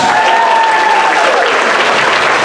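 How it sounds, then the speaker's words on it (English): An audience at a school transition-year variety show in Enniscorthy applauds loudly and steadily throughout, with a sustained whistle sounding briefly over the dense clapping. "Give him a big round of applause"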